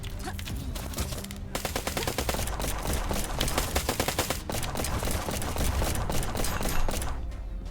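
Rapid machine-gun fire in Black Skylands, a skypunk action game, comes in long, dense bursts of close, sharp shots, with brief pauses between volleys.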